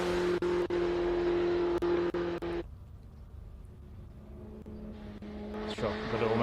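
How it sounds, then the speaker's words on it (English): Classic race car at the Simola hill climb drifting through S-bends, engine loud and steady at first, then cutting abruptly to a quieter, distant drone that swells again near the end. "got almost a 4-wheel drift there through the S's"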